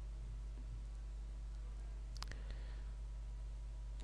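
A computer mouse click or two, a quick faint tick around the middle, set against a steady low hum with no other activity.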